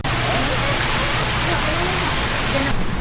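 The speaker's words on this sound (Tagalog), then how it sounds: "kahit maulan, may bagyo" Steady heavy rain during a typhoon on Boracay, a dense unbroken hiss filling the whole stretch at close range with no pauses.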